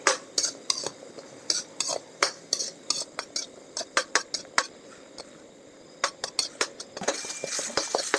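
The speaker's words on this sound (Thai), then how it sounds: "เราจะคั่วไปเรื่อยๆ" A utensil scrapes and clinks against a black pan in quick, uneven strokes as dry ingredients for Thai jaew plara dipping sauce are dry-roasted and stirred, close by with no talking.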